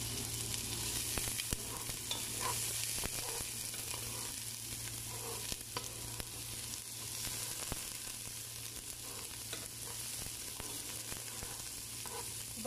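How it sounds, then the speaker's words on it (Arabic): Onions fry in oil as the base for a Saudi-style eggplant stew. A continuous, even sizzle runs throughout, with scattered light scrapes from stirring, close by and with no voices. "حطيت زيت، والان بحط بصل"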